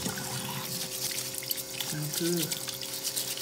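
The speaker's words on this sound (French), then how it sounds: "Alors, on va tester les okas du Pérou. Donc déjà dans le premier temps, on va bien les laver." Oca tubers are washed under a running tap, a steady splash and trickle of water with a brief word spoken over it.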